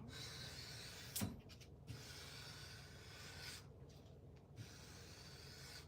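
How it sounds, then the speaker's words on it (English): Sandpaper rubbed by hand, giving soft, dry rasping strokes in three long stretches separated by brief pauses, with a faint knock near the start and no talking. "I'm just using this sandpaper."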